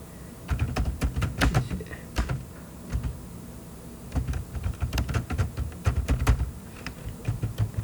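Typing on a computer keyboard, close and clear, in quick clattering bursts of keystrokes separated by brief pauses, with no voices.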